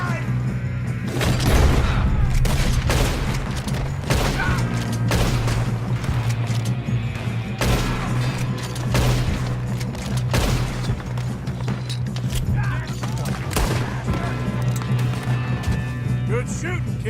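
A loud gunfight in Red Dead Redemption 2, with repeated gunshots and volleys going off in irregular bursts through the clip over a steady low game hum, plus occasional horse hooves.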